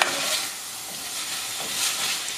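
Bacon, onion and rice frying in a pan and being stirred, a continuous close sizzle and hiss with soft scraping swells that rise and fall, no voices.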